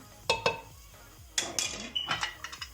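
A spoon scrapes and clinks against a metal cooking pot while lamb is stirred in oil, giving several sharp knocks in quick uneven bursts, close and fairly quiet.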